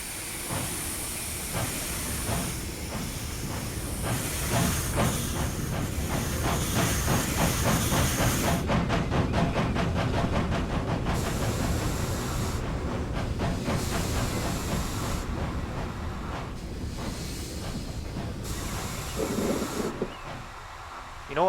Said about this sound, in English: Have a listen to the diesel ejector sounds.